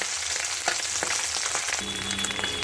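Small mourola fish fry in hot oil as a spatula turns them over, a dense continuous sizzle close up with brief scrapes and the frying shifting in tone partway through.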